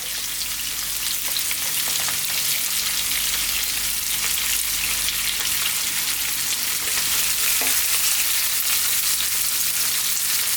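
Onions, garlic and ginger frying in hot oil in a pan for a potato curry: a continuous, dense sizzle with faint stirring scrapes, steady and close throughout.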